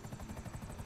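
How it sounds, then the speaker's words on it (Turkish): A helicopter in GTA 5 with mods beats its rotor in a fast, even pulse, a steady mid-distance whir at moderate loudness with no talking. "Aman bu helikopter."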